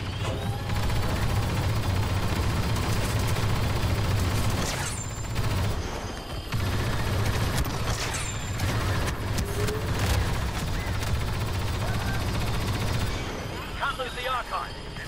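Blaster gunfire in the Star Wars Battlefront II battle, repeated shots and bursts crackling over a steady low rumble of combat noise, with voices talking over the action throughout.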